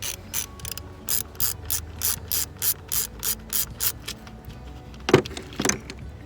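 Ratchet clicking in a steady series of short bursts while loosening a small 5/16 ignition coil pack bolt on a 2014 Ford Fusion EcoBoost engine, close and alone, followed by a couple of louder metallic knocks near the end.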